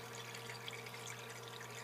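Water swirls steadily in a vortexing device, a continuous low, faint rushing and gurgling wash with a constant hum beneath it and no talking.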